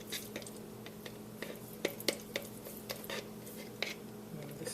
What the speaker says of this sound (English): So I'm just going to put 2 tablespoons of mayonnaise.